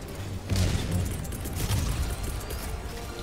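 Rocket explosions in the co-op shooter Helldivers 2, a rolling series of booming blasts and pops over constant rumbling combat noise, loud and close.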